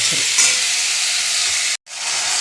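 Potatoes fry in a pan over gas, making a loud, continuous sizzle and hiss that cuts out for an instant near the end before resuming.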